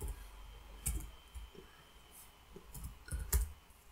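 Light, quick clicks of fingers typing on a computer keyboard, irregular taps spread across a few seconds, soft and close in a quiet room.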